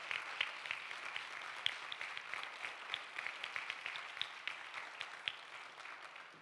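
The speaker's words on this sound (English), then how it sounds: "can we give them a round of applause?" At a community forum, the audience claps for educators in the room, a fairly faint, scattered applause with distinct individual claps continuing steadily for several seconds.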